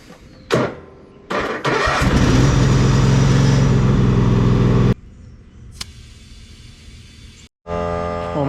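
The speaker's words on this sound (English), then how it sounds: "I'm gonna go grab my tractor." A farm tractor engine cranks and starts with a brief sputter, then idles loud and steady nearby for about three seconds before cutting off, followed by quieter shop noise and a short burst of running engine at the end.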